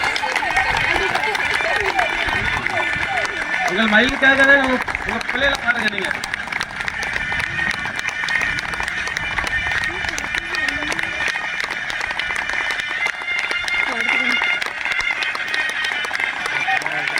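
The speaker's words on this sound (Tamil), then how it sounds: "கைத்தட்டுங்க, கைத்தட்டு பத்தாது" An audience at a school Independence Day celebration claps steadily through a loud, noisy hall while someone speaks over the applause and music plays faintly underneath.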